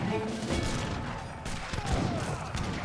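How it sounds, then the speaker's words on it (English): Falconet cannons fire in a battle in Age of Empires 3, a dense burst of overlapping booms and crackling shots. The volley rolls on through the whole stretch with a few sharper impacts mixed in. "Good shot there by the Falconets"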